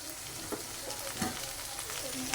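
Onions dropped into a hot pan with dried lotia fish, giving a steady close sizzle of frying with faint stirring scrapes, no talk over it.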